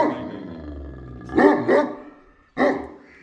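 Pakistani bully dog of the Kuddo line growling low and steadily, then letting out three loud, deep barks close by, two in quick succession and a third after a short pause.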